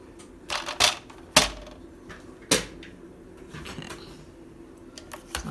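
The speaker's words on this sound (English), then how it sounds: "Hang on while I get my paper cutter." Paper cutter slicing through double-sided scrapbook paper while making junk journal pages, giving a few sharp separate cuts and clacks spaced over several seconds on a quiet tabletop, with no talking.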